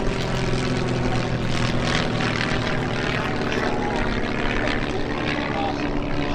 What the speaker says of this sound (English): the breezy coming overhead